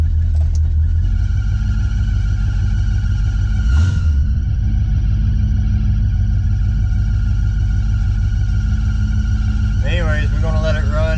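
A 1980 Chevy Camaro, a former race car, runs and warms up with a loud steady idle rumble, a short revving swell partway through, and speech heard briefly near the end.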